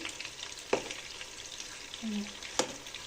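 Meat frying in a pot for an Algerian artichoke dish, giving a soft steady sizzle with two distinct stirring scrapes and a faint hum in between.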